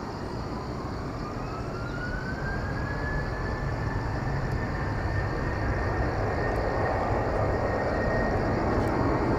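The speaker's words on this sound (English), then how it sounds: "Korean Air 469 to Ho Chi Minh City in Vietnam. This is an Airbus A330-300." A Korean Air Airbus A330-300 airliner at Incheon in Seoul gives a steady, loud engine roar with a rising whine drifting across it, continuous throughout and free of speech.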